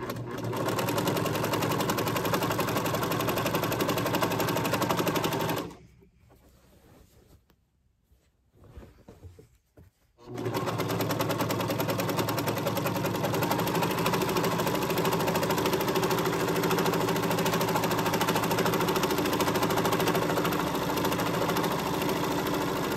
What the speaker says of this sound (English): we're going to start serging